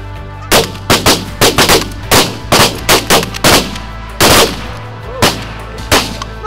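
Shotgun blasts during an early-season goose hunt in rainy conditions, a rapid volley of about a dozen loud, sharp shots in quick bursts, close by with no talking.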